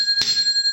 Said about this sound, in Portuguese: ative o sino da notificação